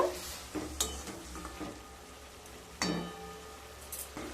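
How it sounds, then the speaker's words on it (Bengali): Drained papaya pieces are stirred into hot sugar syrup, making a soft bubbling sizzle with a few scraping stirs and light clinks of a spoon against the pot, close but quiet and without speech. "এবার ছেঁকে নেওয়া পেঁপেগুলোকে দিয়ে দেব। দিয়ে একটু নেড়ে নেব।"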